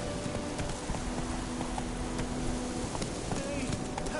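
Horse hooves clip-clop at a steady trot under faint talk and ambient background in The Witcher 3 video game.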